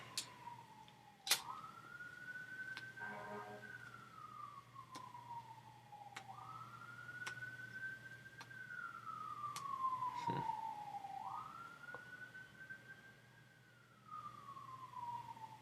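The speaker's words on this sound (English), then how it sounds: "Sounds like a fire truck going down the street." A fire truck siren wails down a street at some distance, its rising and falling tone cycling three times, faint and steady against low background hum.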